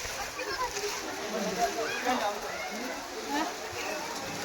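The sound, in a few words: rain water splashing at a temple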